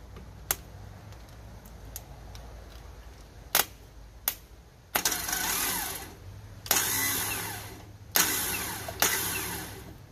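Garden tractor engine on a GT3000 that has had an engine fire, cranking in several short strained bursts and failing to start as it seems stuck, with sharp clicks between attempts, close by.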